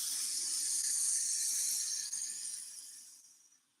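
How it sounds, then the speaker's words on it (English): A long, steady breathy hiss of air pushed out through the mouth as an S sound, fading away toward the end, with no talking. "Exhale through the mouth, creating the sound S to the left."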